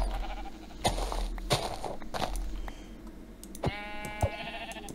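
Sheep bleating in Minecraft, a few short synthetic bleats near the end over a busy mix of game footsteps and clicks, with no talking.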